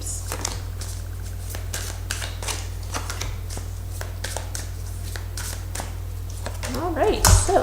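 Fairy oracle cards are shuffled close up in quick crisp riffles and flicks over a steady low hum, with a voice breaking in briefly near the end.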